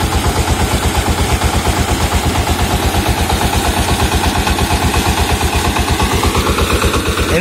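A 20 HP diesel engine drives a 6-inch Intan water pump for field irrigation, thumping in a loud, steady, rapid rhythm throughout with a constant mechanical roar over it.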